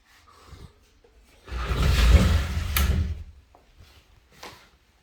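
An original closet door in a Palm Springs Trousdale home slides along its track with a rolling rumble for about a second, ending in a soft knock, surrounded by faint handling clicks.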